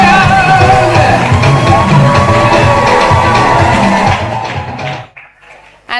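An audience at a primary school graduation ceremony screams, yells and cheers loudly as a crowd for about four seconds, then the noise drops away abruptly into near quiet with a few faint sounds.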